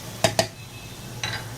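A spoon knocks twice against a pan while stirring a curry over a low flame, then scrapes briefly. The close, hard clinks stand over a soft steady background hum.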